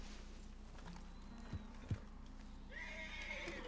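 A horse in the Red Dead Redemption 2 video game gives a high, drawn-out whinny near the end, after a couple of sharp hoof knocks, over a low steady game ambience with no talking.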